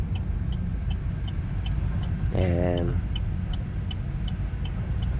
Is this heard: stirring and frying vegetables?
no